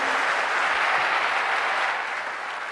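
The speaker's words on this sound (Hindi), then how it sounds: "एक बार जोरदार तालियों से उनका स्वागत करें आप सभी।" Seminar audience at a career institute in Kanpur breaks into loud, sustained applause to welcome a guest, a dense even roar of clapping that eases slightly toward the end.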